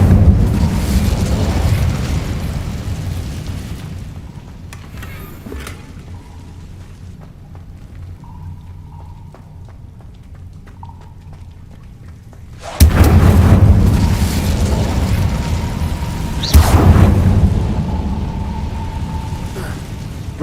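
The Incendio fire spell is cast in Hogwarts Legacy, with two loud, close whooshing bursts of flame over a steady low rumbling game background.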